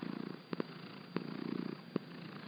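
Cat purrs softly and steadily in a quiet room, with a few brief clicks breaking the rhythmic purr.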